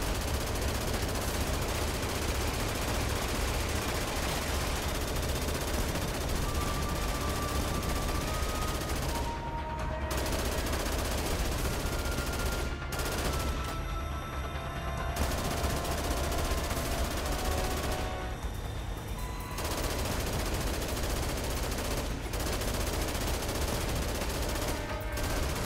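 Tank gunfire in the video game Dead Rising Deluxe Remaster: a sustained, loud machine-gun fusillade rattling almost without pause, with brief lulls between long bursts and tonal game effects mixed in.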